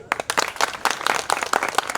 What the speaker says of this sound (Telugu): ఒక 12 మంది చప్పట్లు కొట్టినారు.